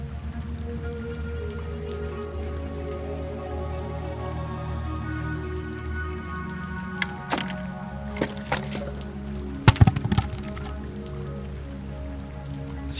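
Steady rain falling during a storm, a constant dense patter with a few louder splashes and knocks toward the end, heard with no one talking.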